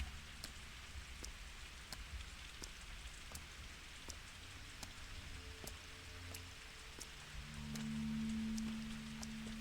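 Rain falls steadily in the video game Pathologic 2 with a soft, continuous patter, broken by scattered sharper drop ticks. A low tonal hum rises near the end, and there is no talk.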